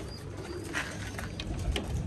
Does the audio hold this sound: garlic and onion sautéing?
no